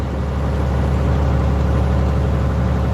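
A truck engine fitted with a new turbo runs at a steady, heavy low rumble, close and continuous, with a broad engine drone and no talk over it.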